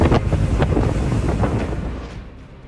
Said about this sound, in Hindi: समंदर का शोर सावधान कर रहा है, अरब सागर के तेवर दहशत में डाल रहे हैं। हवाओं की रफ्तार डरा रही है।